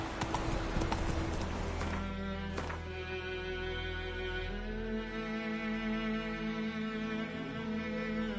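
Roach, a horse in The Witcher video game, gallops in steady rhythmic hoofbeats, close and fairly loud, with tonal game music layered underneath and no voices.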